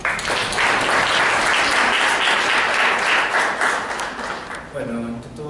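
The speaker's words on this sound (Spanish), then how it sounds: "a quien recibimos con un fuerte aplauso" Loud, dense audience applause welcomes a literature speaker at a university reading and culture event, sustained for several seconds before tapering as a voice begins near the end.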